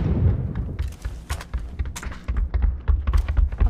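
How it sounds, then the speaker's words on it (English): A grenade going off in the battle royale game PUBG during squad play, heard as repeated heavy low thuds and bursts across a few seconds, loud and close, with no clear speech over it. "That's a grenade."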